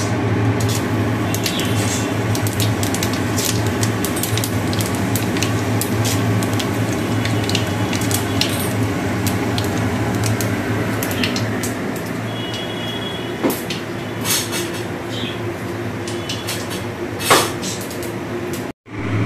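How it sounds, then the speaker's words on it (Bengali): Bay leaf and whole five-spice seeds tempering in hot oil for shukto, giving a steady loud sizzle and crackle that runs almost continuously, with a few sharper pops and a brief drop near the end. "ফোড়ন দিয়ে দিয়েছি, প্রথমে তেজপাতা দিয়েছি, দেবো গোটা পাঁচ ফোড়ন।"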